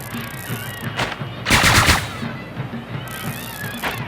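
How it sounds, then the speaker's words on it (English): Fireworks, fire pots, bombs and flares set off at a Zozobra burning recreated in Melon Playground: a steady crackle of small bursts with one louder blast in the middle, fairly close, with little talk. "Big old pots coming, big fire pots and bombs and flares."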